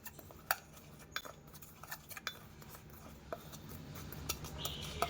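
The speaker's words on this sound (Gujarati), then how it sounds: "અને હવે આપણે આપણા મસાલાને મિક્સ કરી લેશું" Masala spices being mixed in a bowl for sev mamra, faint scattered clinks and scrapes of a spoon against the bowl, irregular and quiet, with no talk.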